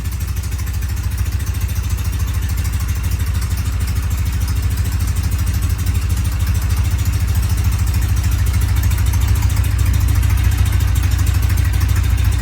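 A Norton motorcycle engine runs after a kickstart, a steady close low-pitched idle with an even rapid thumping pulse, gradually growing slightly louder, with no talking.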